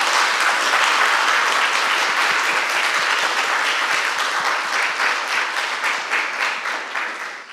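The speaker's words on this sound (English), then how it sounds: "So can we give Joelle another round of applause?" An audience gives a lecture speaker a sustained round of applause, dense and loud from the start, thinning slightly near the end.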